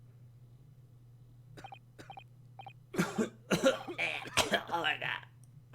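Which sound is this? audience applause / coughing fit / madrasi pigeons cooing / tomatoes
coughing fit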